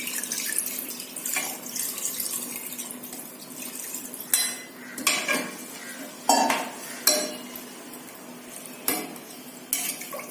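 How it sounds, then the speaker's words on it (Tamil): Water being poured from tumblers into a pot of chicken for biryani, a steady splashing stream close by with several louder pours and clinks of the tumbler against the pot. "அதுக்கு நான் 5 டம்ளர் தண்ணி ஊற்றுறேன்."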